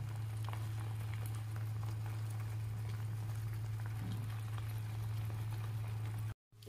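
Hair oil ingredients sizzle and bubble in a pan on the stove, a soft continuous crackle with a steady low hum underneath, faint and close, briefly cut out near the end.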